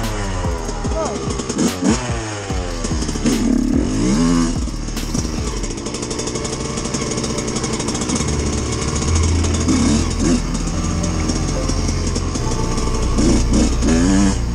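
A Suzuki RM125 two-stroke motorcycle engine runs loud and close throughout, revving up and down repeatedly with rising and falling pitch and a raspy, buzzing exhaust note.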